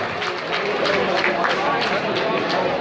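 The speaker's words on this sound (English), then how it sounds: "Big round of applause" Audience at a charity gala dinner applauding after an auction sale, a steady wash of clapping from a crowd in a room, with voices talking through it.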